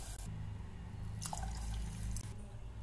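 Water is poured into a cooking pot holding chutney and garam masala for Khandeshi khichdi, a faint, soft trickling and splashing that runs steadily for a few seconds.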